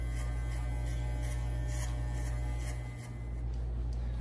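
Electric hair clippers with a number 3 guard buzz steadily and loudly up close during a fade haircut, a constant hum with one brief dip partway through, no talk.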